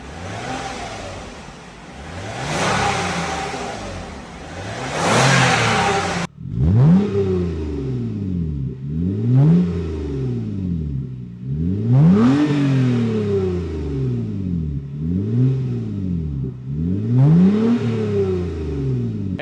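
A Toyota Avalon's 3.5 liter V6, fitted with Evil Energy mufflers, revs repeatedly, each throttle blip rising sharply then falling back to idle in a steady cycle, loud and close with no talk.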